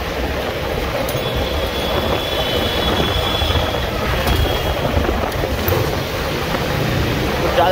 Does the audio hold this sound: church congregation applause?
no